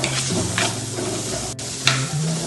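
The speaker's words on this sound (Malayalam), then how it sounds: "നമ്മൾ ഉള്ളിയും വെളുത്തുള്ളി ഇഞ്ചി നന്നായി വാടി" Onion, garlic and ginger sauté in a pan for a chicken curry with coconut milk: a steady close sizzle with a few stirring scrapes, and no talk.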